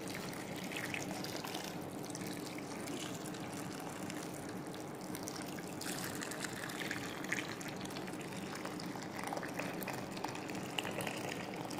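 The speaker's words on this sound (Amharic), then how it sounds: "የፈላውን ውሃ መጣና ጨምርበት አለሁኝ" Boiling water poured into a dish of seasoned food before it goes into the oven, a continuous faint trickling, splashing stream that runs steadily without a break.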